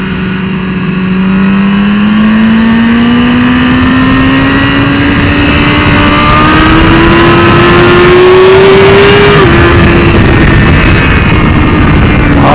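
A 2015 BMW S 1000 RR sportbike's engine holds a steady, loud high-revving tone at speed, its pitch climbing gradually before a brief dip near the end, with wind roar throughout and no talking.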